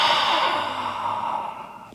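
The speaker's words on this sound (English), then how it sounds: "the breath, which is going to be that open mouth exhale" A slow, open-mouthed exhale, loud and close, breathy and airy, trails off gradually over about two seconds with no speech.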